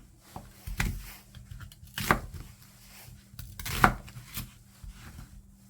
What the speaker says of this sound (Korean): 믹서기에 갈게 썰어서 준비해주고